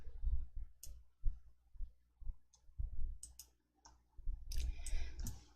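A computer mouse clicks on the OK button in Excel, one of a string of crisp, close clicks scattered through a quiet stretch, with a faster cluster near the end.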